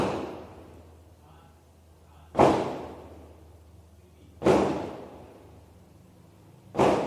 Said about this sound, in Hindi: आपके पटाखे चल रहे हैं क्या?